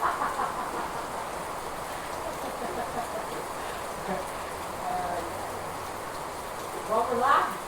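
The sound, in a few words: rain falling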